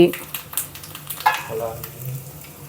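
Close, lively popping and sizzling as mustard seeds, lentils and dried red chillies fry in a little hot oil for tempering, with quick spatters and stirring scrapes.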